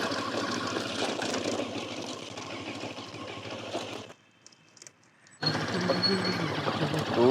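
A Moto Morini X-Cape 650 motorcycle engine runs with a steady, smooth rumble and rhythmic low pulses, cutting out briefly to near silence before resuming; a voice talks over it at times.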